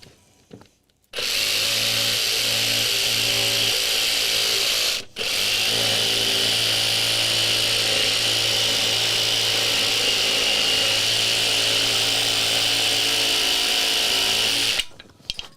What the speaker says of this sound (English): Excuse me, chainsaw.